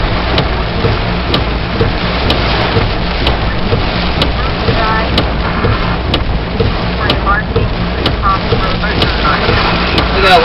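Heavy rain pours steadily during a severe thunderstorm in Pittsfield, Massachusetts, a dense continuous wash with low rumbling underneath and a few brief sharp ticks, loud and close throughout.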